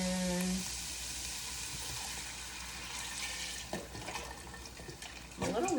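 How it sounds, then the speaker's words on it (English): Broth goes into a pot of Zuppa Toscana that is already frying, a steady sizzle and hiss of liquid with a few louder splashes and bubbling near the end. "So let me get this broth in."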